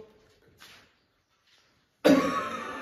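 A patient's cough during a doctor's breathing check in a comedy sketch: one loud, broad burst near the end, after a near-silent stretch with a couple of faint breaths.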